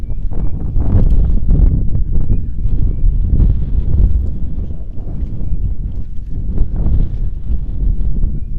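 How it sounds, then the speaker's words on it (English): Gusty wind buffeting an outdoor microphone at a sunny cricket match, low rumbling bursts that rise and fall continuously and sound close and fairly loud. "Great weather to play cricket in it. Windy, very sunny."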